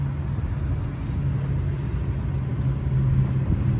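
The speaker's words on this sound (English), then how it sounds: "I'm certain this car got an exhaust leak." A 1976 Buick Skylark engine idles with an exhaust leak, a steady low rumble with a faint drone close by, running alone without talk.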